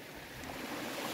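Gentle ocean waves at a beach resort in the morning, a soft continuous wash of surf with some breezy hiss, moderately faint and without voices.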